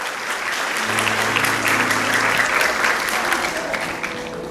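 Church congregation applauding during a Catholic parish preaching service, a steady, dense wash of clapping from a large crowd that fills the whole stretch, with a sustained low tone from music or an organ underneath.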